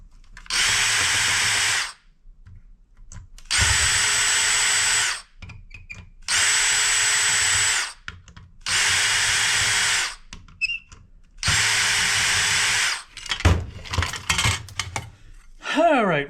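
A power drill backs screws out of scrap electronics in five steady bursts of about two seconds each, whining loudly with short quiet gaps between, followed by softer clatter and handling of metal parts.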